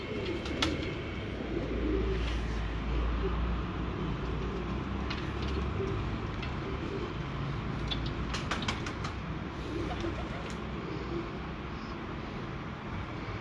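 Breeder pigeons, including a large pigeon and its offspring, coo repeatedly in low, rolling calls, with scattered sharp clicks and faint background noise.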